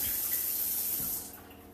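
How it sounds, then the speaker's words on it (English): Hands are washed under running tap water in a sink, a close steady hiss of flowing water that drops off sharply near the end of the brief clip. "So now all you need to do is just to wash your hands."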